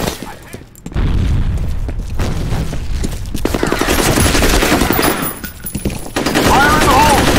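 Assault rifle fire in the shooter FEAR Combat, loud close bursts of rapid automatic shots with booming impacts, sustained for most of the stretch after a brief quieter opening, with short lulls between volleys.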